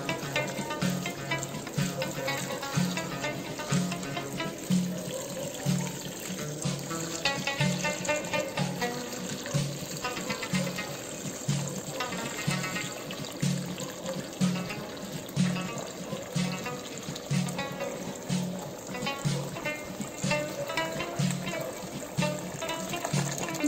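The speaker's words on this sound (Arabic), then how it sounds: "ودابا غادي نكبو الماء." Water pours steadily into a pot while a sauce is being made, a continuous loud splashing and trickling that lasts throughout with no pauses.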